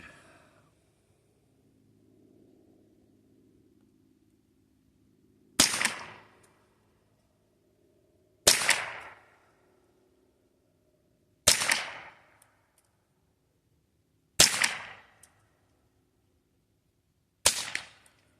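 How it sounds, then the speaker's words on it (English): Five sharp .22 rifle shots ring out one at a time about three seconds apart while the rifles are sighted in. Each crack is loud and close with a short decay, and quiet gaps sit between the shots. "And then I'm going to shoot another group."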